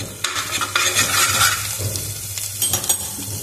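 Turmeric frying with green chilies in a pan for a saag dish, heard as a steady close sizzle with scraping stirs and a few utensil knocks against the pan, no talking.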